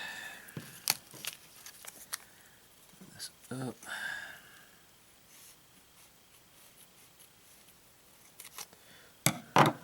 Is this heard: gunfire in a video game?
no